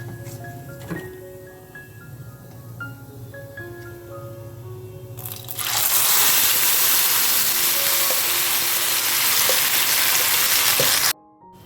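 Nigella seeds and dry red chilli hit hot oil with a sudden loud sizzle halfway through, after quieter stirring, and keep frying in a steady close hiss until the sound stops abruptly.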